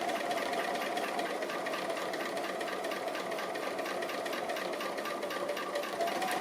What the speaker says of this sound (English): going to go past it first and then just back up a couple of stitches